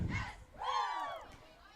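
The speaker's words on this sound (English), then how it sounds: "Spaulding Red Raiders are doing their cheer." Spaulding Red Raiders girls lacrosse team shouting their pre-game cheer, a short burst of young voices yelling together in a rising, sliding call, moderately close.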